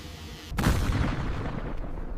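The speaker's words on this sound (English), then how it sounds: "The alignment sequence began with a short cannon burst, sending shockwaves through the tunnel." A short aircraft cannon burst fired in a tunnel hits abruptly as a loud, dense roar, then decays slowly into a rumbling wash of echo and shockwave.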